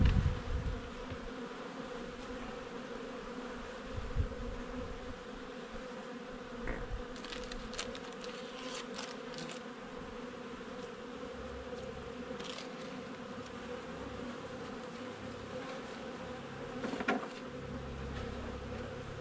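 Honey bees at the hive keep up a steady, soft buzzing drone, with individual bees occasionally passing closer and louder against the quiet outdoor backdrop.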